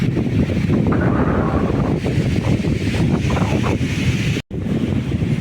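Strong wind roars across a beach near Sai Wan Village, a loud, steady gusting rush with a brief dropout near the end and no voices.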